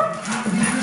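Dogs at home, among them Santi, Peppy and part-schnauzer Grantley, giving a short whimpering yelp close by, a single brief canine vocalisation.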